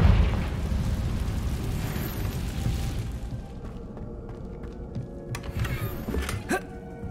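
A Confringo spell blast from the Hogwarts Legacy video game, a loud booming explosion at the start that rumbles and slowly fades, followed by lighter crackling pops and game effects.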